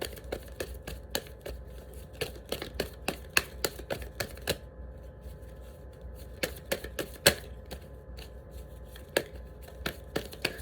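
Tarot cards being shuffled by hand, a run of sharp, irregular snaps and riffles spaced through the whole stretch, close and fairly quiet with no talk.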